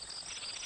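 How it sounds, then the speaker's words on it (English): Grasshopper sound effect from a Sesame Street bug app: a brief, steady, high-pitched insect chirring, fairly quiet and alone. "Grasshopper."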